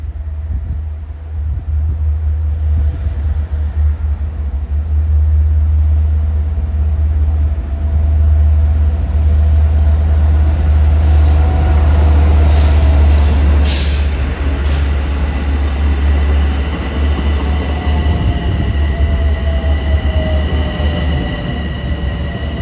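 LIRR M9 commuter trains roll past Kew Gardens during rush hour, a loud, steady low rumble of wheels and cars running the whole time, with brief high squeals and whistle-like tones partway through.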